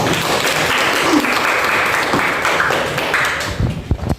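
A classroom of students gives their classmates a burst of loud, dense clapping that holds steady, then thins out into a few scattered claps at the end.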